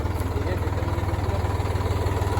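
A heavy tractor engine runs steadily and close, its low throbbing rhythm holding even throughout with no talk over it.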